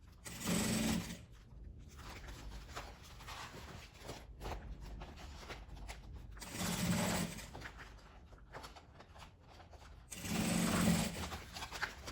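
Sewing machine stitching fabric for a honeycomb drawer organizer, running in three short bursts separated by quieter handling and shuffling sounds, close and fairly soft.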